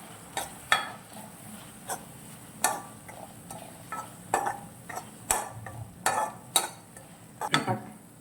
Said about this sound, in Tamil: பச்சை வாசனை போடணும் நல்லா வதக்கிடுங்க